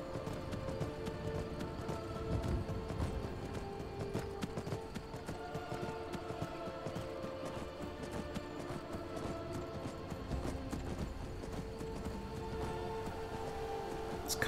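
Horse hooves clip-clop steadily in the video game Skyrim, a continuous trotting rhythm at moderate level under a bed of ambient game music and outdoor atmosphere, with no talking.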